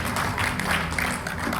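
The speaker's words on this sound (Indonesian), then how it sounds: "Kasih tepuk tangan." Applause at a Christian wedding blessing ceremony, a steady wash of many hands clapping together, moderately loud and continuous throughout, with no talk over it.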